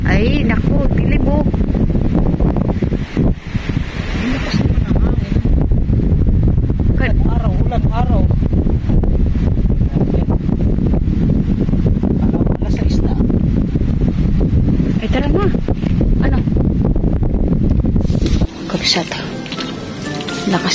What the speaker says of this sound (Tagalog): Lakas ng hangin tsaka kulog.